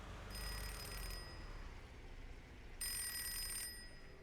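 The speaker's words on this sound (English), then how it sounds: "Oh, the phone's ringing." A telephone rings in the horror game Drowned Lake with two bright, metallic bell-like trills separated by a pause. The rings sound electronic and sit above a steady low ambient rumble.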